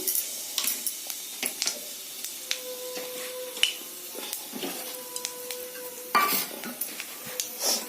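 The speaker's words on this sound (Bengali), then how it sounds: "কালো জিরে ফোড়ন দিলাম" Nigella seeds temper in hot oil left from frying fish, giving a quiet sizzle broken by sharp clinks and scrapes of a stirring utensil against the pan, irregular and close.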